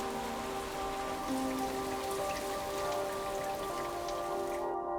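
Steady rain patters on surfaces at a moderate, even density, a soft continuous hiss with scattered drops and no voices throughout.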